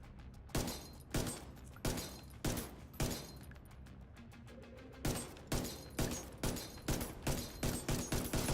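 Loud, sharp gunfire from The Division 2 video game, fired in repeated bursts of single shots with a short pause in the middle, then a faster steady string of rounds.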